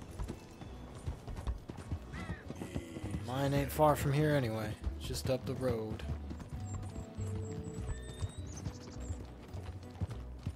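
Horse hooves clip-clopping in the video game Red Dead Redemption II, a steady close rhythm running under a man's speech, with music and game ambience around it.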